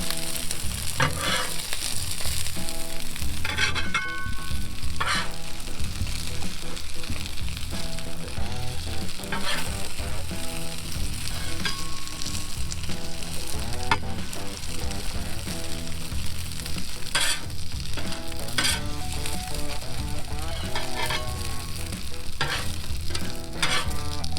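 Tacos with cheese frying and crisping in a pan, a steady dense sizzle with occasional stirring scrapes and pops running throughout at close range, no voices.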